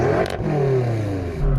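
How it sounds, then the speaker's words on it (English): A BMW M5 engine revs during a sound check, one sharp blip followed by a falling exhaust note that settles to idle, close and loud with no talk. "Rev up your car."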